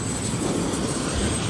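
Futura model airplane making a slow flyby with full flaps deployed, a continuous engine drone with steady broad noise through the whole brief moment, no voices.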